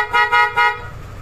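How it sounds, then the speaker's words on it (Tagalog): An aftermarket PIAA horn fitted to a KYMCO scooter gives three quick, loud, bright toots, close and in a fast rhythm, followed by a short tail of background noise. "Tapos, busina, PIAA."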